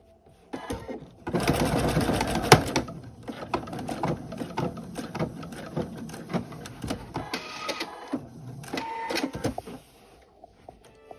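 Sewing machine stitching along the strap of a fabric tote bag, a close, steady mechanical needle chatter that runs in bursts of varying speed with short pauses, loudest at the start.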